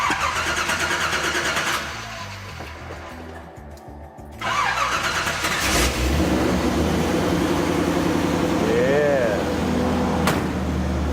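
A TPI 350 V8 in an older car cranks and fires up, then settles into a loud, steady idle close by while people talk over it.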